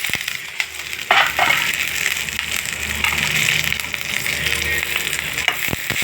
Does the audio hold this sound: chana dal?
yes